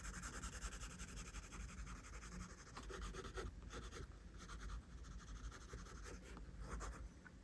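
A pencil sketches straight eyebrow strokes and fills in shading on paper during a drawing lesson, a steady close-up scratching and rubbing that runs continuously and fairly quietly, with no talking.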